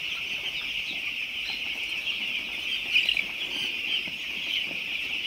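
Chickens in a poultry flock cluck continuously at close range, with a brief flurry of wing-flapping near the middle over a steady high-pitched background drone.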